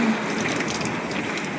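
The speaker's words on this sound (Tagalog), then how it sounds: "Lakas ang ulan at hangin," Heavy typhoon rain pours steadily alongside the wind in a constant, dense wash of noise, loud and close, with no one talking.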